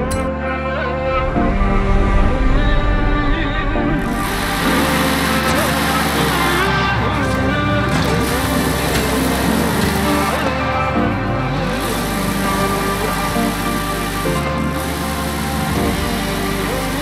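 A car engine drifting in Forza Horizon 5 in Copper Canyon, with a steady loud high-revving drone that rises and falls and keeps going without a break, and no voices over it.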